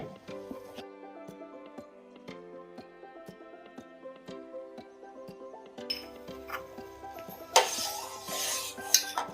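Sugar stirred into a jelly mixture in a pot, with intermittent spoon scrapes and clinks against the pot over faint background tones, growing busier and louder toward the end.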